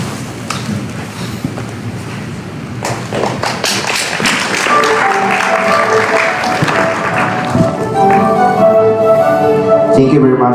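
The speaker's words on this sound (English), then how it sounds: "let us give him a round of applause" Audience applause following a lecture on technics and civilization, a dense wash of many hands clapping that builds and sustains for the full stretch, loud and close, with some tonal background sound emerging toward the end.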